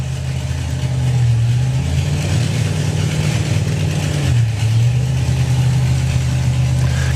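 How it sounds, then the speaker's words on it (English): A C10 Chevy pickup and a supercharged outlaw car at a drag racing meet, a loud sustained engine drone with a deep steady tone that dips briefly and recovers, with no talking. "The No Easy pickup, another C10 Chevy pickup, going alongside another one of our very happy Supercharged Outlaw runners this weekend."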